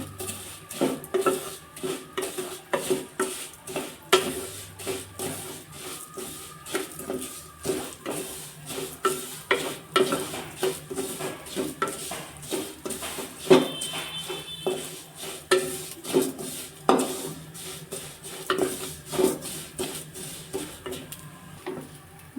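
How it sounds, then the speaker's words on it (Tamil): Vermicelli roasting in a pan is stirred for a second-day Ganpati naivedyam offering, with a steady run of close metallic scrapes and taps of the spoon against the pan. "லைட்டாக ப்ரௌனிஷாக ஆற முடியும் வறுத்துக்குங்க."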